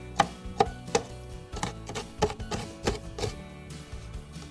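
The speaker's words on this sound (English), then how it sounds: "So I'm just going to chop them up a little smaller" A knife chops jalapeños on a cutting board in sharp, irregular taps, close and fairly loud, about a dozen strikes with short pauses and no speech.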